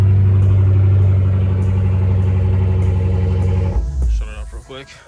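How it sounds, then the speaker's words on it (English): A Dodge Charger Hellcat Daytona with a check engine light on idles high and loud, a steady close engine drone that drops and settles toward the end. "I'm not sure why it idles so high."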